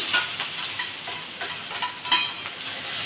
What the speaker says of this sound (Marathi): छान असं भाजून घेऊया कांदा